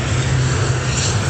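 A Ryanair airliner on approach to land at Dublin Airport gives a brief, loud, continuous engine drone with a strong low rumble that stays steady throughout, and no speech is heard.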